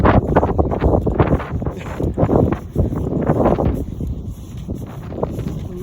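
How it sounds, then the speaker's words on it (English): Strong wind gusts outdoors on a blustery March day, roaring and buffeting steadily and loudly across the whole stretch with rougher surges, no talk. "When the wind be blowing."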